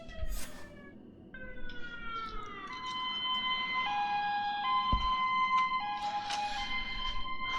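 An emergency siren wails in the game Greedfall, its rising and falling tones sweeping over a low background rumble at moderate distance.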